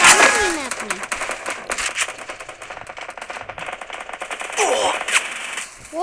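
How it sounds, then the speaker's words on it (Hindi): Rapid bursts of AK-47 automatic fire from the Free Fire Max shooter game crackle loudly in repeated volleys, with other game effects and a voice talking in between. "AK-47 निकालूंगी मैं अपनी"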